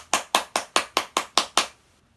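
A pastor claps alone at a Friday revival service at a church, eight sharp, evenly spaced hand claps in a steady rhythm, close and clear, then silence.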